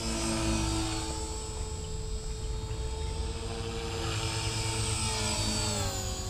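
450 Pro RC helicopter running in governor mode with the rotor held at about 3000 RPM, giving a loud, steady high-pitched whine with rotor buzz from close by, unbroken throughout.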